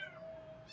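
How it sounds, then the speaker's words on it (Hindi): A cat gives one drawn-out, fairly soft meow held steady for most of a second, close by, then a brief sharper sound at the very end, with no talking over it. "बहुत म्याऊं म्याऊं कर रहे हैं भाई ये लोग।"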